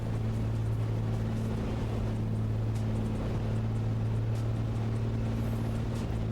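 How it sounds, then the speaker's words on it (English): A Piper Comanche engine in a flight simulator drones with one cylinder out, a steady low rumbling hum with a rough, strained edge that holds constant throughout, no voices over it. "I can hear the engine struggling"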